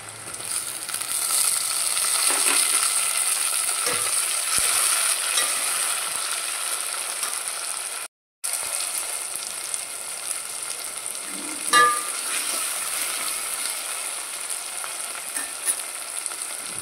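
Tomatoes fry in a pan for a bottle gourd sambar, with a loud continuous sizzle and occasional stirring clinks. A brief gap falls midway, and no one speaks.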